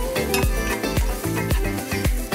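A spoon scrapes and clanks rhythmically against a pan as chicken is stirred into an onion-tomato mixture, with sizzling underneath, steady and close with no talking.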